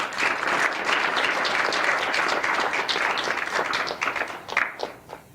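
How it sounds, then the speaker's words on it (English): At a book launch, the audience gives the authors a warm round of applause: many hands clapping steadily at moderate volume for about five seconds before thinning into a few last claps. "I want us to give them a round of applause"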